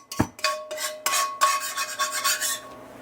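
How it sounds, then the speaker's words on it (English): A spatula scrapes leftover bits of scrambled egg off a cast iron pan in a run of short, rasping strokes, close and fairly loud, with no talking. "just scrape them like this"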